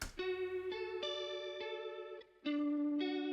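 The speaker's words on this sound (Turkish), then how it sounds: "FX1'de de reverb'ümüz ve equalizer'ımız vardı. Bu şekilde duyuluyor reverb hali." Guitar notes ring out through reverb and an equalizer plugin effect, a sequence of sustained, harmonically rich tones changing pitch every half second or so, clean and alone with a brief dip before the last held note.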